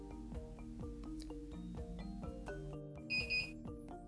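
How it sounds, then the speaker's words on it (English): A short, high electronic beep from a SmartAP 4 autopilot signals completed calibration, rising briefly above a steady background of rhythmic musical tones, heard once near the end. "this beep means that the calibrations procedure was successfully completed"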